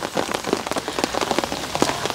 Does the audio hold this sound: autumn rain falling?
yes